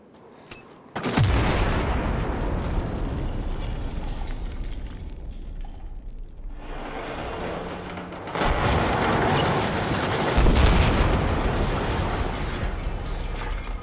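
Explosives and gunfire bring down a guard tower in Battlefield 4: a sudden loud blast, then sustained crashing rubble and shattering debris, with a second heavy surge of collapse later.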